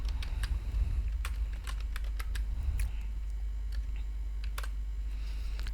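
Code being typed on a computer keyboard during a Python data-type lesson: irregular, crisp key clicks come in small clusters and scattered single taps over a steady low hum, with no voice.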